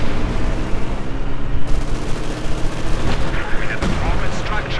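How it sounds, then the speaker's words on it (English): Heavy ISU-152 self-propelled gun firing in Company of Heroes 2, loud booming blasts and rumbling battle noise filling the scene, with commentary talk running underneath. "ISU 152 fires, kills the Pioneer squad"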